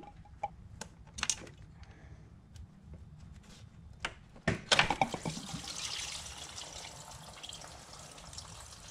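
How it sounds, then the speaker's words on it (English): Engine coolant drains from the heater inlet and outlet pipes of a BMW E46 330i into a catch can, a faint trickle with scattered drips and small clicks, then a louder splashing burst that settles into a steady pour. "Make sure you have a catch cam ready to catch that coolant."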